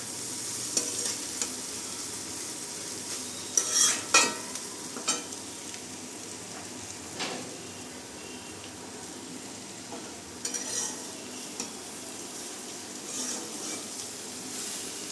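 Boiled chow mein noodles are stirred into frying vegetables and oil in a home kitchen pan, a soft steady sizzle broken by sharp scraping strokes of the spatula, scattered and fairly quiet.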